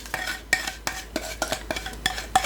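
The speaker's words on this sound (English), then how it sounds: "Again, making sure you scrape the bottom." A spoon scrapes and knocks rhythmically against the bottom of a pot of hot bee candy syrup being stirred, with about nine sharp metallic strokes in quick steady succession, close and clear.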